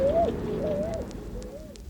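A bird, likely a pigeon or dove, coos three times in a radio play set on a bus, each call a falling tone standing out against steady background hum.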